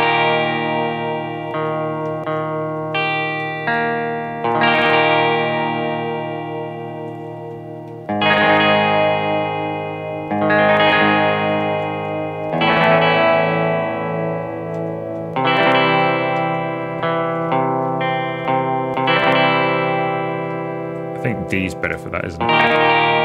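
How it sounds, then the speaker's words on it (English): Distorted electric guitar played through an effects unit in Music Store Simulator, sustained chords and notes in bursts separated by brief pauses, loud and close, with a scrappy strum at the end. "Well, enough of my horrendous guitar playing."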